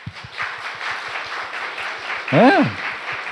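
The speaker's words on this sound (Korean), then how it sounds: "그래서 이 시간에는 그런 분들에게 박수로 감사의 표현을 하면 좋겠습니다." A church youth congregation applauds in thanks during a Sunday sermon, giving a steady rhythmic patter of clapping with a voice rising briefly over it.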